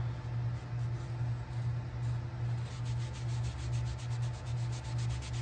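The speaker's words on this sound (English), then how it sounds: "Now I'm just rubbing that baby wipe around my turkey" A baby wipe dipped in brown paint rubbed over a small wooden turkey craft, making a close, steady, rhythmic rubbing swish that repeats in even strokes with no talking.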